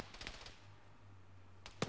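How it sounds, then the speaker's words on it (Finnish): Gunfire in the Arma 3 military video game: a quick burst of distant shots opens, then a low hum holds before one sharper close report near the end, all fairly faint. "Mistä päin meitä ammutaan?"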